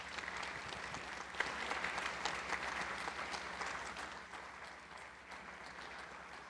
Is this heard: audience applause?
yes